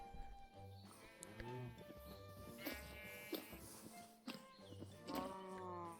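Sheep bleating in Minecraft on a survival farm, several wavering bleats repeating close by, mixed with other farm-animal calls and low game sounds, with a person talking faintly underneath.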